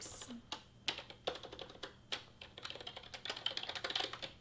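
Fingers tap quickly on a computer keyboard, typing a name into craft design software in irregular close bursts of clicks that grow denser toward the end.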